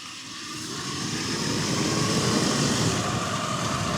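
A 2011 Zero XU electric motorcycle with a 20KW brushless conversion accelerating, a steady broadband rush of wind and road noise that swells slightly as speed builds, with no engine note.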